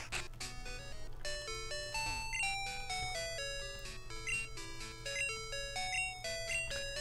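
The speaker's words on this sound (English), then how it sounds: "every night, it plays a little tune on the bells" Church bells across the street ring out a melodic evening tune, a steady run of clear tuned chimes heard at moderate distance over a low constant hum, with no voices.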